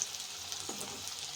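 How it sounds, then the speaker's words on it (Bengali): Onions fry in a pan with dried chili and bay leaf for a chickpea curry, giving a soft, steady sizzle with a faint stir near the end and no talk. "তো এবারে এগুলো সব ভাজা হচ্ছে।"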